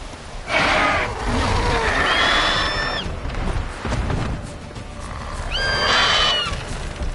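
Roach the horse in The Witcher 3 whinnies loudly twice with rising, wavering neighs over a rumble of galloping hooves, the calls spaced a few seconds apart.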